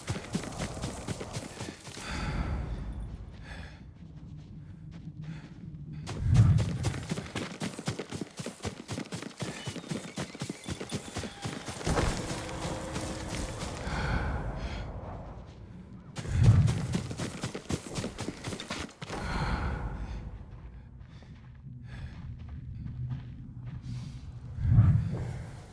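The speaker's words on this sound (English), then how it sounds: "Yuriko's horse." Horse hooves clopping in Ghost of Tsushima as Yuriko's horse moves, with a steady stream of hoofbeats under swelling game music and a few heavier thuds.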